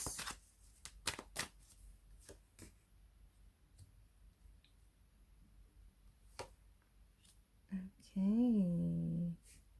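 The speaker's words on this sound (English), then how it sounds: "then we lay out two cards" Tarot cards are shuffled and laid out, giving a quiet run of scattered soft snaps and taps, close and faint. A brief, louder tonal sound follows near the end.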